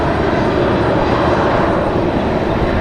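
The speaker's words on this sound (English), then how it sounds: "Copa Airlines up next, coming in from Panama City. That is our next arrival." A Copa Airlines jet on arrival at Raleigh Durham airport gives a loud, steady engine roar that fills the whole moment.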